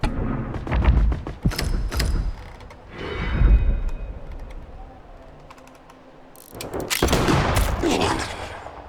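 Pistol shots in the game The Foretold: Westmark Legacy come as separate sharp cracks with mechanical clicks between them, several loud bursts spaced across the stretch, each followed by a short gap.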